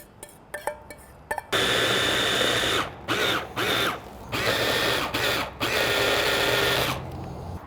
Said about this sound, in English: All right, so now we're going to get this into the food processor